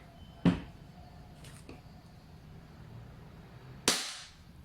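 Two sharp shots from an Umarex Glock 17 Gen 4 gas blowback airsoft pistol, one near the start and a louder one almost three and a half seconds later, each with a quick snappy crack over quiet room tone.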